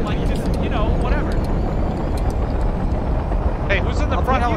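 Helicopter in the military shooter Project Reality: a steady, loud rotor-and-engine drone fills the whole stretch close by, while players talk over it intermittently.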